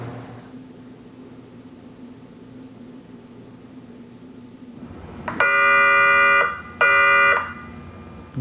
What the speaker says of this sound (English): Just 10 minutes into the exam and an alarm goes off.